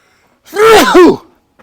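A single sharp sneeze, loud and close, with a brief inhale leading into the burst.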